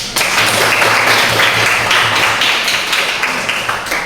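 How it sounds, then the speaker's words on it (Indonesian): A classroom of students claps for the groups that presented. The applause starts abruptly and stays dense and steady for about four seconds, with many hands clapping at once before it tapers slightly at the end. "Sama-sama kita berikan aplaus."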